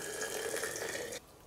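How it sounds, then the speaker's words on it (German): Hot homemade winter berry drink poured back into glasses, a steady close liquid stream with a gurgling, burbling quality that cuts off abruptly after about a second, leaving quiet room tone. "Und jetzt, so heiß, werden wir wieder zurück in die Gläser geben."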